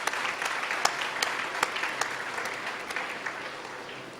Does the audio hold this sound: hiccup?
no